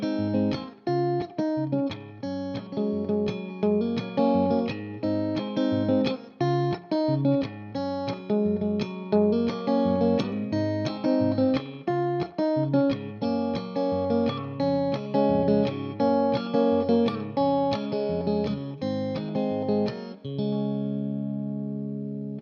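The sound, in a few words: guitar playing thumb chord version of chorus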